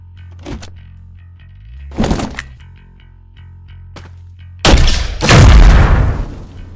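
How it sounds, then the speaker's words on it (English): Grenade launcher firing in a roguelite video game: several sharp booming blasts with a longer, louder explosion near the end, over a quiet looping music bed, with no talking. "This is definitely a grenade launcher."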